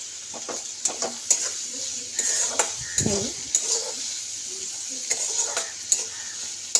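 Onions soften as they fry in oil in a pan, a steady sizzle broken by repeated scrapes and clinks of a utensil stirring against the pan, close and moderately loud.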